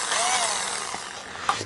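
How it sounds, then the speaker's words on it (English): A small Makita cordless drill whirs steadily for a moment and then slows, close and alone, with a faint click at the end. "Of course, my trusty little Makita drill,"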